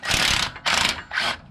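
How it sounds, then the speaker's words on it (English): Three quick bursts of a ratchet wrench whirring and clicking loosen a 21mm track bar bolt on a Jeep Gladiator. The tool is close and loud, with short pauses between strokes. "now we are going to go ahead and loosen up our track bar bolt"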